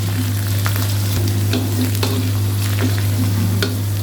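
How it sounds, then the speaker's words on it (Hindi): Cinnamon pieces, black cardamom and cloves fry in hot oil with a steady sizzle, punctuated by occasional scraping clicks of stirring and a low hum underneath. "2 दालचीनी के टुकड़े, बड़ी इलायची 1, 3 से 4 अदद लौंग। इसको हम थोड़ा सा फ्राई करेंगे।"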